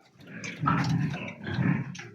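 A dog growls low and rumbling at close range, two swelling snarls in a row with no talk over them.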